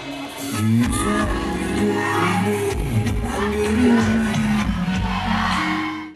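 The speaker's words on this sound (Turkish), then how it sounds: "İnegöllü vatandaşlar alkış yağmuruyla desteklerini sürdürdü" A big concert crowd at a show in İnegöl cheers and claps, with whoops and shouts over loud ongoing music. The sound is dense and steady for several seconds, then fades at the end.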